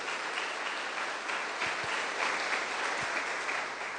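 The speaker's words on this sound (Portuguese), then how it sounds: "E dê uma forte salva de palmas para o Senhor Jesus" A Sunday church congregation gives a strong round of applause for Jesus, an even, continuous patter of many hands clapping heard from a short distance, with a few low thumps.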